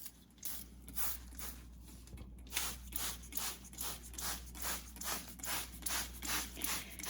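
A spray bottle mists seedlings in a greenhouse with repeated short hissing sprays in a steady rhythm, each burst brief and close, with a faint low hum underneath.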